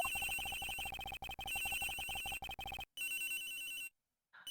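A phone in the Ace Attorney Investigations game rings loudly and insistently, electronic trilling bursts repeating in quick succession for about three seconds, then breaking off into a short quieter tone before silence.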